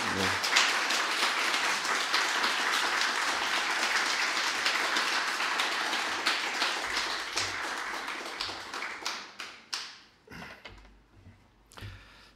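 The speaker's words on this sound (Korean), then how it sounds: "큰 박수로 환영해 주시기 바랍니다" A church congregation claps to welcome a missionary during a Wednesday service: sustained loud applause that thins into scattered, separate claps and then fades out toward the end.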